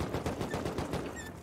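A rapid burst of automatic gunfire during a raid in Rust, a dense run of quick cracking shots at moderate distance, continuous for the whole short stretch.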